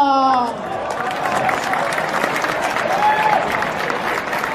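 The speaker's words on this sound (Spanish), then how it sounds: "¡Un fuerte aplauso a" A crowd at the Jigoku Style 2018 anime event applauds Danann, a steady wash of clapping and cheering that follows a loud voice at the start and holds at an even level.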